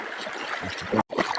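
River water flowing steadily along a wading route, a continuous broadband rush with small gurgles, briefly cutting out for a moment before resuming.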